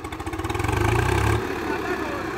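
A Swraj 45 HP tractor runs in third gear, its engine throbbing in a steady, pulsing rhythm up close. The engine is loud for over a second before easing to a lower idle-like hum.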